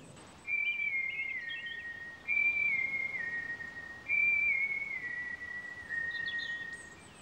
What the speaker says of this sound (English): She's high and floaty and naughty. And she whistles a windy tune out loud.